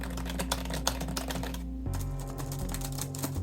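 Fingers type rapidly on the chunky keys of a PowerBook G3 laptop keyboard, a dense run of close, crisp clicks and clacks over a low steady hum, with no voices.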